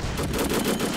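Japanese Type 1 machine gun firing in the Men of War: Assault Squad 2 game, a loud, rapid, continuous burst of automatic gunfire with a dense rattling rhythm throughout.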